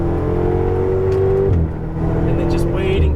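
Ferrari 488 GTB engine on the Las Vegas Motor Speedway track, a steady sustained drone that rises in pitch as the car rolls onto the throttle through a left-hand turn, loud and close throughout.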